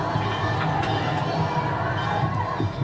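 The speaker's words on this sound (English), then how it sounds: "That's the noise of the school" Noisy children at a school near the Bagan stupas in Myanmar, a steady, dense wash of distant young voices shouting and chattering together outdoors.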